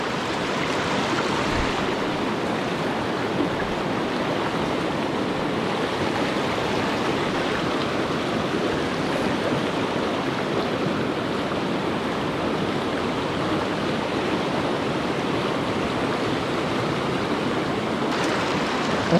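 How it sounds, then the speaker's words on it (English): Fast creek water in the Gifford Pinchot National Forest near Mount St. Helens pours into a deep step pool, a close, steady and loud rushing roar that holds unchanged throughout with no voices. "Fast water into a deep step pool."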